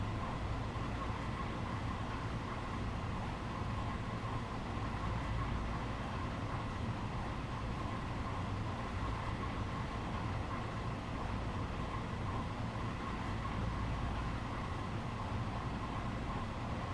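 A simulated Long Island Rail Road M7 commuter train rolls along with a steady, even rumble and hiss from its wheels on the rails, continuous and fairly quiet.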